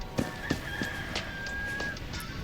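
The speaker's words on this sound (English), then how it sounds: "that rooster means it's time for daytime" A rooster crows at daybreak in the video game Enshrouded, a drawn-out call heard over a soft ambient background, with a few short bursts of sound around it.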